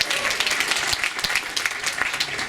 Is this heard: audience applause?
yes